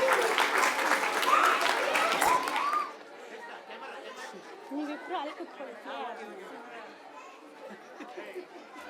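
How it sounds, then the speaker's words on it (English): Parents applaud at a kids' annual day celebration at EuroKids Nandini Layout, a loud burst of dense clapping for about three seconds that stops abruptly, followed by murmuring crowd chatter and scattered voices. "Give them a big round of applause, parents."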